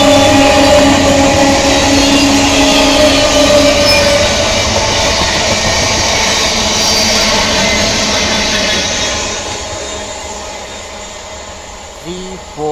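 The 34835 Up Diamond Harbour–Sealdah local train rolls past Sonarpur railway station on the Sealdah South line with a loud, steady roar of wheels and carriages, which gradually fades as the train moves away.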